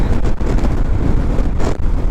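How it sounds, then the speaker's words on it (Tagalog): Strong wind on a hilltop buffets the microphone during a ride on a Honda ADV160 scooter, a loud, steady roar with gusty low rumble and brief dips; no voices. "Malakas ang hangin kasi nasa tuktok tayo."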